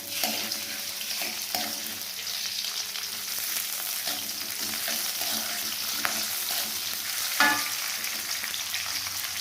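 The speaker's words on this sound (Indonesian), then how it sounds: "Tumis sampai matang." Onion and tomato sauté in a hot pan, giving a steady close sizzle with occasional clicks and scrapes of stirring, no voices.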